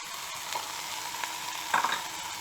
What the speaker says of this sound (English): add the masala paste and the tomatoes and fry